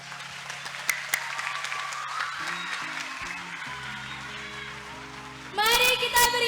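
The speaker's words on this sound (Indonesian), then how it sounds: "Mari kita beri tepuk tangan paling meriah untuk para pemeran dan tim divisi produksi di balik layar" Theatre audience applauding performers at the end of a stage production, sustained clapping under music and a held tone, growing louder and denser in the final second.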